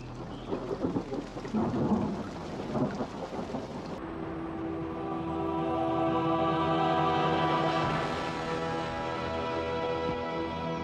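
Heavy tropical rain pours down on Indonesian rainforest islands while thunder rumbles and rolls, building into a long, deep roar over the downpour.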